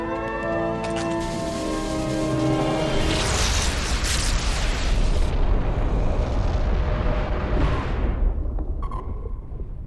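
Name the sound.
warhead launch explosion in a video game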